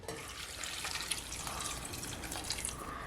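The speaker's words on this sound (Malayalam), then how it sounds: "ഇതിനകത്ത് നമുക്ക് ആവശ്യത്തിനുള്ള വെള്ളം ഒഴിക്കാം." Water is poured from above onto mixed vegetables in a pressure cooker, a soft, steady splashing trickle heard close up and fairly quiet, with no talking.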